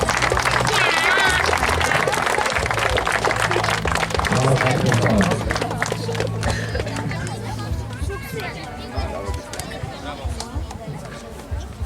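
A crowd applauds and cheers for Kasper Grabowski of team Netherlands at the closing ceremony of a mini European championship. The clapping and crowd noise run throughout, under an announcer's amplified voice, and fade slightly toward the end.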